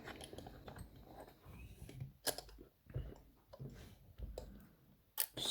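Small metallic ticks and clicks from picking a 6-pin Ruko lock clamped in a vise, irregular and close, with scattered sharper snaps as pins set, no voices.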